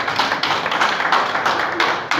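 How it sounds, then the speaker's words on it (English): Audience applause for a speaker at an elite club gathering: dense, steady clapping from a room of listeners, continuous through the whole moment with no voices over it. "Please, a round of applause."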